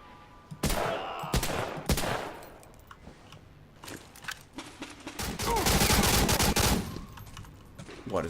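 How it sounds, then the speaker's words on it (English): A submachine gun in a war video game fires bursts of rapid shots, with sharp cracks early on and a sustained rattling stretch near the middle, loud and close, mixed with other game noise. "It's all because it's a submachine gun"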